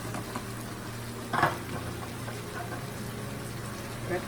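Carrots, celery and green beans stir-fry in a pan with a steady low sizzle and hum, broken by a brief scrape of stirring midway and a faint clatter near the end.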